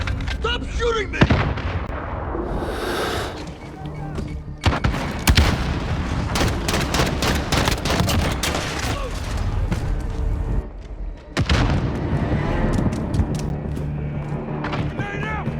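Call of Duty Modern Warfare gunfight with dense, loud rapid gunfire bursts and booming shots that go on almost without pause, a short lull, then heavy firing again, with shouted voices mixed in.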